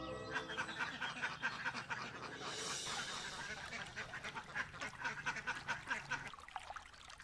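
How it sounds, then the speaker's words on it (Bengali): A duck on a riverbank quacks in rapid, repeated nasal calls, moderately close, running continuously with a rhythmic chattering pattern over a faint background. "প্যাক প্যাক আওয়াজ তুলে পাখিটা যেন ভয় পেয়ে ঝোপে উড়ে না যায়"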